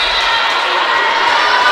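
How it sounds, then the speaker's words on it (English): Spectators at a college volleyball match cheer and shout loudly and steadily, a dense, sustained roar of crowd noise filling the gym throughout. "And the crowd getting really into it."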